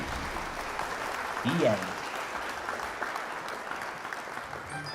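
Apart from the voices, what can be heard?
audience applause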